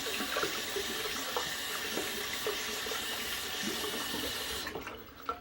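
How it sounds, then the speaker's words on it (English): Tap water runs steadily into a sink while hands are rinsed beneath it, a constant close splashing hiss with small irregular spatters, cut off near the end as the faucet shuts. "Rinse my hands real quick"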